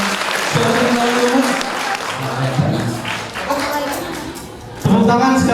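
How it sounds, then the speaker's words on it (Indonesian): An audience claps and applauds at a religious motivational youth gathering, a sustained wash of clapping mixed with a host's voice speaking over it and a louder burst near the end. "Tepuk tangan sekali lagi ya."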